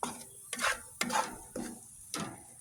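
Chanterelle mushrooms cooking in butter with seasoning, heard as a quiet, close stirring with four or five regular scraping strokes over a faint sizzle.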